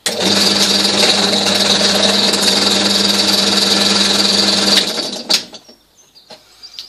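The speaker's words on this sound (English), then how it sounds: "You can use a normal everyday drill." A normal everyday power drill whirs loudly and steadily for about five seconds, then stops abruptly, followed by a few light clicks and handling noises.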